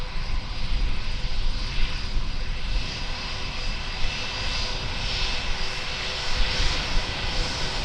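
An Airbus A320 jet taxis at Auckland Airport, its engines giving a steady, loud, broadband roar that holds evenly throughout with no talking.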